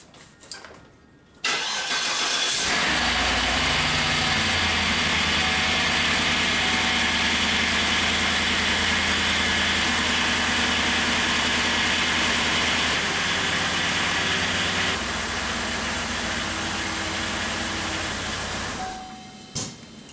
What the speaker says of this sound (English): We can go ahead and fire up this car